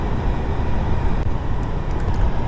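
Boeing 747 engines throttled down in a flight simulator game, heard as a steady broad roaring rush that stays dense and constant throughout, with faint ticks near the end and no talk.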